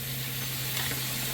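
A Chinese self-heating ration heater fizzes and sizzles after water is added, a steady, close, low hiss with a faint hum underneath for a brief moment, no talking.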